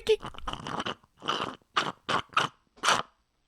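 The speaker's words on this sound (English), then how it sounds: "I was slurping my yerba mate" Loud, close slurps of yerba mate drawn through a straw in a series of short bursts, alone without talk.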